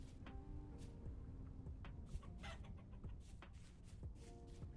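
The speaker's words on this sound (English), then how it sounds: "heard the chicken in game" Chickens cluck in the Vintage Story video game, soft and fairly faint in short clucking phrases over a busy background of clicks and other noise.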